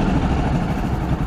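Hero Passion Pro motorcycle engine idling with an altered engine note, a steady close rumble throughout, no speech.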